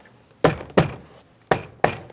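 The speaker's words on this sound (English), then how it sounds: "We're just going to tap this down." Four sharp thumps in two quick pairs as a rear door trim panel on a 2003-2007 Cadillac CTS is tapped firmly into place by hand.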